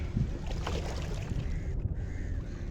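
A boat moves along the water at Port Klang, heard as a steady low rumble with wind buffeting the microphone outdoors. There is a possible faint bird call in the background.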